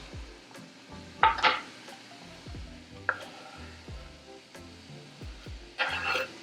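Onion and bell pepper cooking with ground beef and Italian sausage in a pan for lasagna: a soft, faint sizzle broken by a few sharp utensil scrapes and clinks.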